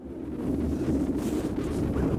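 Strong wind buffets a sailboat deck while a small storm trysail is hoisted, giving a steady low roar and rumble of gusts against the microphone, continuous and fairly loud with no voices.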